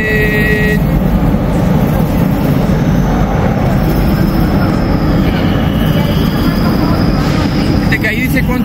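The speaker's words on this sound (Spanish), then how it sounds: "Ahí viene el tren." A Buenos Aires subway train pulls into the station, a loud continuous roar of wheels and rails with high metallic squeals rising and fading as it slows.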